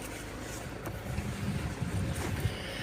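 A light outdoor breeze blows faintly against the microphone, a soft, uneven rush with small gusts and no voices.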